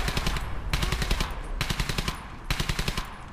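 Sustained machine gun fire in the World War II shooter Brothers in Arms: Hell's Highway, loud and close, rattling in rapid bursts with short gaps across the whole stretch, no voices over it.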